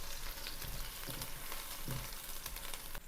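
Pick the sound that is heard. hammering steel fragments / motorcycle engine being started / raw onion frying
raw onion frying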